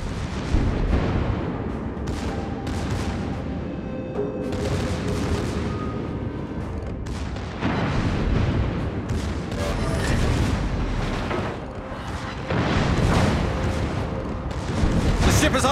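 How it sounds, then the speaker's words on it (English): Naval artillery from warships in World of Warships, dense booming salvos and rumbling explosions in repeated bursts, loud and continuous, with a voice briefly heard. "Concentrate fire on the designated target."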